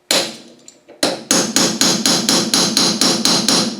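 A hammer pounds a rusty Adwest steering box in a rapid, evenly spaced series of loud metallic blows, with two isolated strikes first and then about ten quick hits, up close with no talking.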